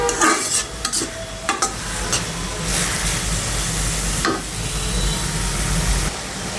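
Snake gourd and egg fry in a pan, with a loud continuous sizzle broken by the scrape and clatter of a utensil stirring the mixture.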